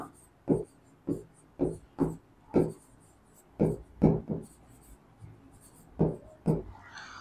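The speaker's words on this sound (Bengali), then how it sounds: "লিখবো আমরা সুতরাং মোট পরিবহন খরচ" A calculation for a transportation cost problem written out by hand, giving a string of short, distinct scratching strokes in an uneven rhythm, close and fairly clear, with no talking.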